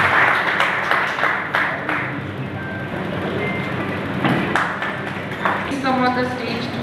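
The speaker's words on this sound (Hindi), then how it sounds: "एक बार तालियों से आप स्वागत अभिनंदन कराएं" An audience claps to welcome a speaker at an education foundation event in India, a dense, continuous wash of clapping mixed with crowd voices throughout.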